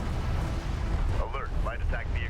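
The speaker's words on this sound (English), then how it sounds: "we've got artillery on the field" Artillery fire rumbles through a Deserts of Kharak real-time strategy match, a continuous loud low booming roar with no clear single shots, while a commentator's voice speaks over the battle.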